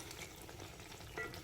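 Sliced potatoes for aloo bhaji sizzle steadily in a hot pan in a home kitchen. A faint, continuous frying hiss is heard with light stirring scrapes, and no voices.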